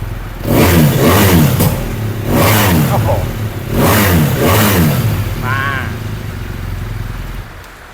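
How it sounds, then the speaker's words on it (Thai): A 2013 BMW R1200GS LC motorcycle engine revs up hard several times in bursts, loud and close, with a brief spoken exclamation between revs before settling toward idle. "มาฟังเสียงเครื่องยนต์กันก่อนนะครับ"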